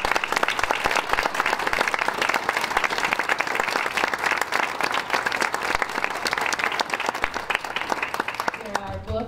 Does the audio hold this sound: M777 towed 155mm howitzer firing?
no